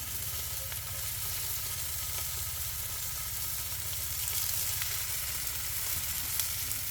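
Tomatoes frying in the oil left behind by bacon and sausage for an English breakfast, giving a steady close sizzle and crackle that holds evenly throughout with no talk.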